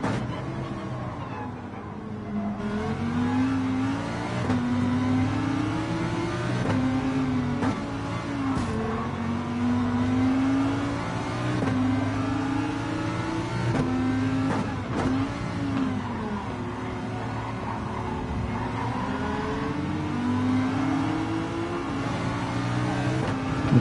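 Race cars in Gran Turismo 7 drone and rev continuously, with engine pitch climbing and falling through gear changes and other cars audible nearby, all loud and without talking.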